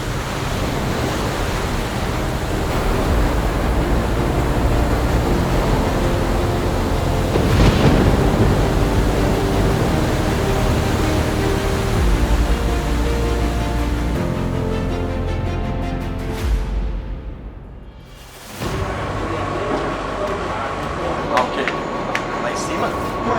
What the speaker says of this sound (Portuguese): frequentemente apresenta um mar revolto, ventos fortes e ondas altas